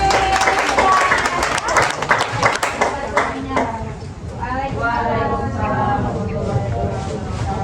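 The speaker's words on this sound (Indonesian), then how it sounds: "Tepuk tangan berani." A room of class participants applauds at a session on distance education. Steady clapping for a few seconds gives way to a voice talking.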